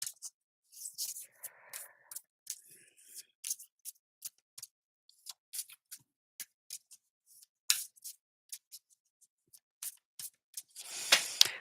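Rapid papery riffling and soft card slaps from a tarot deck in short bursts, ending in a longer flurry of shuffling, close and fairly quiet with no talk.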